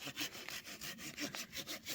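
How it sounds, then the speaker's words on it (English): A hand saw cuts firewood at a lakeside campsite after rain, steady back-and-forth rasping strokes repeating about every quarter second, close and fairly loud, with no voices. "Colton's sawing us some wood for when it dries out"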